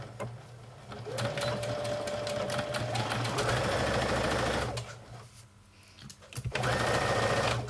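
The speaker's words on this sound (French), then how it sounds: "pour pouvoir coudre cette petite pince, je commence à la base et je vais coudre directement sur le point." A domestic sewing machine stitches a small dart in fabric, running in two steady whirring bursts with a short pause between, close and fairly loud.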